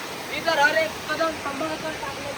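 A waterfall and flowing water on a trek near Chander, Masure, give a steady broadband rush throughout, with people talking over the water.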